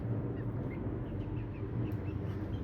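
Chickens in a garden in Germany cluck and murmur softly in a steady low chorus, with scattered higher calls over a constant farmyard background.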